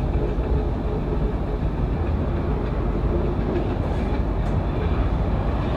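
Eastern Express passenger train running on rails in Turkey, a loud, steady rumble with faint clickety-clack from inside the carriage, continuous throughout with no talking.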